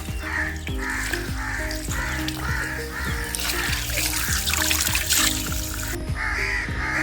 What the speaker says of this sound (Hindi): ये नल लगा है बेहतरीन माशाल्लाह। इसमें से पानी भी बहुत प्यारा आ रहा है।